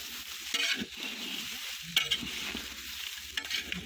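Masala spices roast in a pan with a quiet dry sizzle, scraped and stirred in short strokes, close up and without talk.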